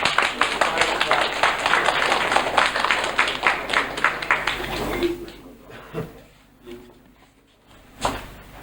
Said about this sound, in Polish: I brawa!